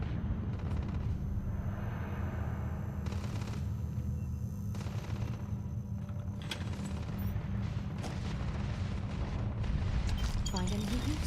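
Bursts of rapid gunfire from a firefight in the space game Starfield crackle and pop over a constant rumbling background, with several sharp volleys and some mechanical clatter.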